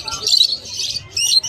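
African lovebirds for sale at the Malabon pet market chirp in bright, shrill bursts close by, two clusters of rapid twittering separated by a short pause.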